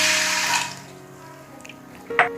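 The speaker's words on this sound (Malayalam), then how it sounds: "വേവിക്കാനായിട്ട് ആവശ്യത്തിന് വെള്ളം ഒഴിച്ചു കൊടുക്കാം." Water from a tap pours into a pot of unsoaked green gram for payasam, a strong rushing stream that fades after about half a second, followed by a brief splash near the end.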